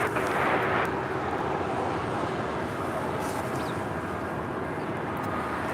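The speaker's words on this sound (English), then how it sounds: "FedEx Flight 3901. It's a 777, brand new, delivered in September of last year, making her way over to 25 right." A brand-new FedEx Boeing 777 taxis at LAX toward runway 25 right, giving off a steady broadband jet-engine roar that stays fairly constant and moderately loud throughout.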